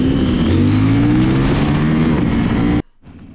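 A CFMoto NK 800 motorcycle with an inline-twin engine revs hard up close, its loud rising whine climbing steadily before cutting off abruptly into near silence.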